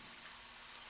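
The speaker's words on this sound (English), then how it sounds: "That was some quiet rain." Quiet rain in the video game Deadly Premonition hisses as a soft, even wash for about a second, steady and unchanging.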